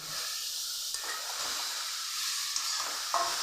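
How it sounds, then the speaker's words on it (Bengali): Potatoes go into bottle gourd greens frying in a pan: a continuous close sizzle and hiss with a few soft clatters of stirring. "এবার আমি আলুটা দিয়ে দেবো। আলুটা দিয়ে দিচ্ছি"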